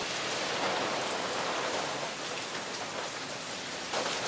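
Steady rain with big drops falling outdoors in the mountains, a dense, even hiss pattering on surfaces nearby throughout, with no voices.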